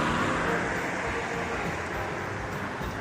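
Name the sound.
cars passing on road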